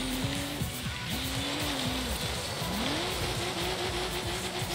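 A Nissan Skyline GT-R drifts in Forza Horizon 3, its engine note loud and steady, rising and falling as it slides, with tire squeal and a dense wash of road and spray noise.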